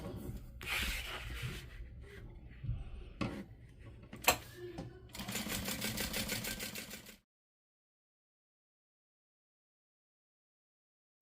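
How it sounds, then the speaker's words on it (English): A sewing machine bastes the exterior fabric of a bag to its lining, first with intermittent rubbing and handling noises, then a steady rapid stitching run of about two seconds, followed by silence. "we are going to baste our exterior to our lining"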